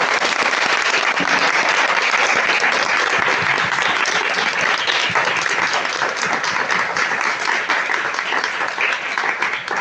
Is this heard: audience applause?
yes